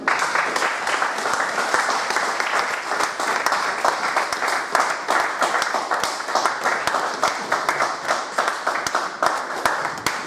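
A church congregation applauding together, dense rhythmic clapping from many hands that holds steady for about ten seconds with no pause.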